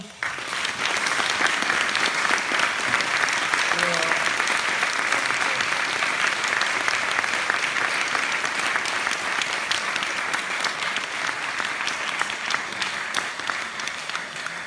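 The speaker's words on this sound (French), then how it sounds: "Je pense qu'on peut l'applaudir." An audience at a Leiji Matsumoto drawing masterclass and live performance in Paris bursts into sustained applause after the artist finishes his drawing, a long, even roar of many clapping hands with faint crowd murmur.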